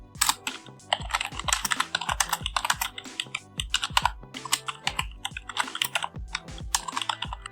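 Fingers type code rapidly on a computer keyboard, with a close, uneven patter of crisp key clicks and occasional heavier thumps, no speech.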